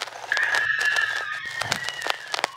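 A rooster crows once in a long, drawn-out call, with scattered clucks and chatter from other fowl nearby.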